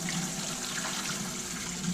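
Water runs from a film developing tank during the wash cycle, a continuous close splashing and gurgling pour that stays steady for the whole stretch, with no voices.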